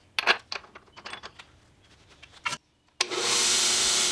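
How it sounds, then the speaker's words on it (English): A buffing machine polishes the stabilized wood handle of a Japanese saw to a medium-high gloss; scattered taps and rubs come first, then a loud, steady whirring roar starts abruptly and runs to the end. "this is going to enable me to put it directly on my buffing machine and get it to kind of a medium high gloss"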